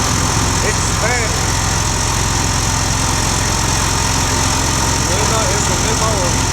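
A new lawn mower's engine runs steadily at close range in tall grass, its continuous drone filling the whole stretch with no break, with faint birdsong above it.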